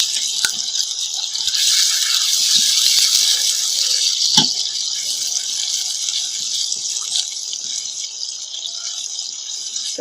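Ginger garlic paste sizzling and frying in hot oil in a pan for chicken haleem, a steady bright hiss throughout with a few small pops and clinks, close and fairly loud, no talking.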